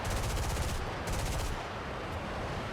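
Rapid machine-gun bursts from an F-84B Thunderjet fighter in a War Thunder air battle, a dense rattling stream of fire over a steady jet engine roar, loud and continuous with brief gaps between bursts.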